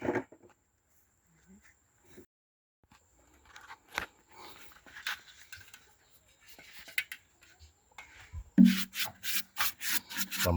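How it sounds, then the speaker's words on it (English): Rubbing on the inside of wooden beehive boxes while baiting them to attract bees, heard as scattered scraping and brushing strokes, then a louder, quick rhythmic run of rubs near the end. "So I'm rubbing inside the boxes."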